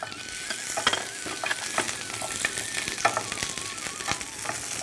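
Pieces of ginger fry in oil in a pan as part of a coriander mutton recipe, giving a steady, moderately close sizzle dotted with small crackles and pops, with no voices.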